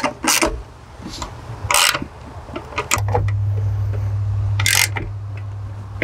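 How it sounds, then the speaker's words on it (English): Ratchet wrench cranking down the mounting bolts on a Smooth Moves low profile box, with bursts of clicking ratchet strokes over a steady low mechanical hum, fairly close. "Now I'm gonna crank those down nice and tight."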